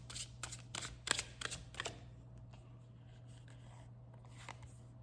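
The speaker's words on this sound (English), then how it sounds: "So let me give it a shuffle and we can pull a card" A deck of tarot cards is shuffled in a few quick riffling bursts, close and fairly quiet, then only faint soft rustles over a low steady hum.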